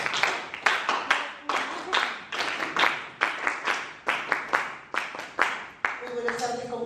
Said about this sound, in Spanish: iniciamos esta segunda parte con palmas a pista